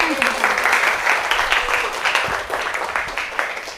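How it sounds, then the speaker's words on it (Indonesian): Students applaud the best group in a classroom, a sustained patter of many hands clapping close by, with some voices mixed in. "Berikan tepuk tangan."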